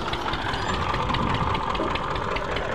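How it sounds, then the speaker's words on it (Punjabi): A tractor engine runs steadily at a tubewell, used to power the well pump, giving a continuous loud, low chugging drone that holds without pause from start to finish. "ਕਿਹਾ ਟਰੈਕਟਰ ਲੈ ਕੇ ਆ, ਟਿਊਬਵੈੱਲ ਚਲਾਉਂਦੇ ਹਾਂ।"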